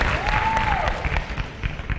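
Audience applause at a college speech night, a steady wash of clapping lasting the whole moment with a faint whistle rising and falling early on.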